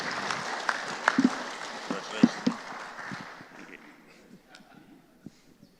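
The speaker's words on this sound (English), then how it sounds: "Big round of applause for them." Brief applause from a meeting audience, a soft patter of claps that fades quickly over a few seconds while some chatter continues in the room.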